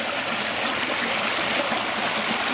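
Heavy storm runoff gushes steadily out of the vents of a spring house, a loud, continuous rushing stream with a dense broadband roar and no voices.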